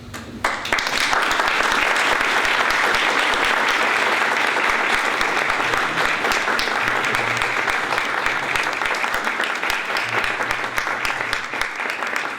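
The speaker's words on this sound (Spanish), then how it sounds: "El aplauso para Jaime Bernal y su libro." Sustained audience applause for an author and his book at a linguistics dictionary anniversary event, a dense even wash of many hands clapping without a break, with no talking.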